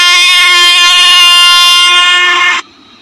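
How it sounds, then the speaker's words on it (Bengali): A train sounds a long, loud horn as it arrives at a railway platform, the blast holding steady for over two seconds before cutting off abruptly into quiet. "ওই দেখো ওইখান থেকে একটা ট্রেন আসছে"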